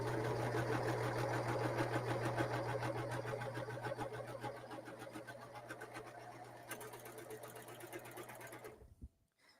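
A serger stitches a test seam on fabric scraps with a fast, steady mechanical whir and rapid needle clatter, close and continuous before stopping near the end, with no talking.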